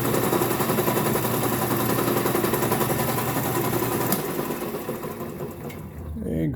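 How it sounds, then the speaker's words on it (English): A lathe running with a steady, dense mechanical rattle and hum, loud and close, continuing evenly before easing slightly near the end. "Turn on the lathe here."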